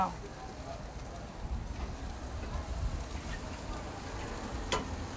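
Jerk chicken grills on an outdoor barbecue, giving a steady close sizzle and crackle with faint voices in the background.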